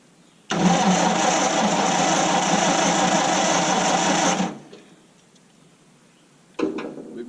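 Old Massey Harris tractor engine starts after years of sitting and runs loud and close with a busy, rattling beat for about four seconds, then cuts out abruptly; a short burst of noise returns at the end.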